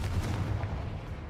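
In Hogwarts Legacy, a Confringo spell blast lands as a heavy, booming explosive burst with a dense low rumble that carries through the whole short moment, loud and without speech.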